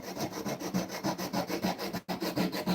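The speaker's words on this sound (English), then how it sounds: "right now, I'm cutting off some dowel pins for this project" Wooden dowel pins being hand-sawn, a steady back-and-forth rasping rhythm of strokes, close and fairly loud, with one brief pause near the end before sawing resumes.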